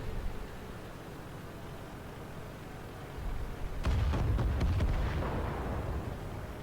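A tank gun firing in the video game World of Tanks, a single heavy boom about midway through followed by a rumbling, crackling tail over steady background noise, with no voice.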